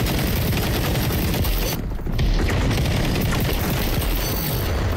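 Heavy gunfire in the shooter game XDefiant, a dense, loud burst of rapid shots and booming impacts that runs almost continuously, with a short lull partway through before the firing resumes.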